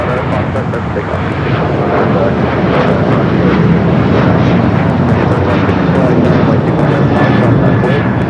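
A United airliner takes off at LAX with a loud, sustained roar of jet engines that swells and holds steady throughout, with a radio-style voice talking over it.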